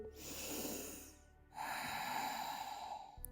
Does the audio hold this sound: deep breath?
yes